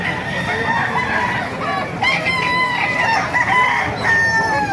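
Roosters crow loudly over a bed of clucking hens at a chicken market in Baliuag, Bulacan, several calls overlapping, close and continuous.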